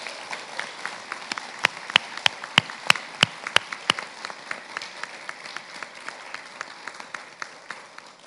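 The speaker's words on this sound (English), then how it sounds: "Give these girls a round of applause." Applause for the girls at a junior school prize giving in 2021, a thin scattering of distinct handclaps with a few sharp, louder claps standing out, fairly sparse and steady throughout.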